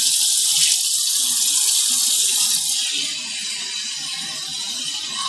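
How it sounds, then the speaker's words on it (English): A newly installed French-style kitchen faucet is turned on, and water runs in a steady, bright hiss into the sink, easing slightly softer partway through and continuing alone without talk. "now I'm just going to turn the water back on and see if I did it right"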